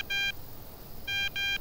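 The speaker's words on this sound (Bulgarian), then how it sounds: "Вини ми звъни." In a video game, a phone rings with electronic trilling bursts: one short ring, a pause, then two more rings close together, clear and alone.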